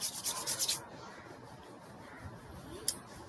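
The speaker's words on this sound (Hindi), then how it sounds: "हाथों को रब कर लीजिए, अच्छी गर्माहट पैदा कीजिए और गले पर लगाइए।" Palms rubbing briskly together to build warmth during a seniors' fitness session, a short burst of rhythmic dry friction strokes up close, then a quiet room with a faint tap.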